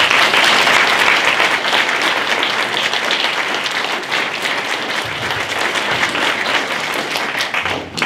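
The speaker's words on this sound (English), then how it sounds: "give everyone here a round of applause" Sustained applause from the audience at a local House of Delegates candidates' debate in Prince William County, a dense, steady roar of many hands clapping that fills the room for the whole stretch with no talking over it.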